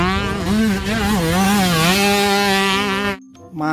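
A toy motocross motorcycle gives off a loud, close, buzzing electronic engine drone whose pitch wavers up and down. It stops suddenly, then briefly starts again.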